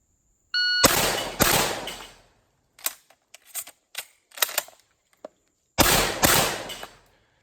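Shotgun blasts ring out during a timed competition stage, several sharp loud reports separated by gaps and smaller clicks of handling, with no talk.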